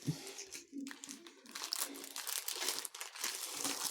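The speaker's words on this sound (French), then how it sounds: "Et hop, tu vas retourner dans ton emballage." Plastic packaging from a Temu unboxing crinkles and rustles nearby as an item is slipped back inside, in irregular bursts with a few faint background sounds.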